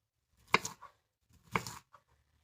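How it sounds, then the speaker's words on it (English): A knife chops through cauliflower into medium-sized chunks, two sharp close cuts about a second apart, followed by a faint tap. "I start cutting it like that and chopping it up into not too small of pieces"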